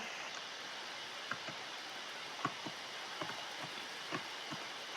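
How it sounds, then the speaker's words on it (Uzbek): Steady rain patters on a surface, a dense hiss broken by scattered louder drops landing nearby. "Ana ustiga yomg'ir ham yog'ib yubordi."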